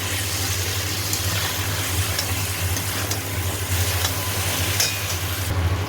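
Ginger garlic paste and salt fry in a pan for a chicken leg curry, giving a steady, fairly loud sizzle and hiss with a constant low hum beneath and occasional faint stirring clicks, no voices.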